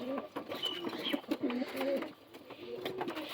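Madras pigeons cooing in a steady run of low throaty coos, fairly faint against a busy background hiss.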